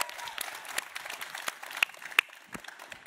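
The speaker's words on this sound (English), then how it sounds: "thank you, everyone, for the applause as well" Scattered applause from an audience at the Fisker Product Vision 2023 electric-vehicle premiere, quiet and thinning out into sparse individual claps with a few sharper ones standing out.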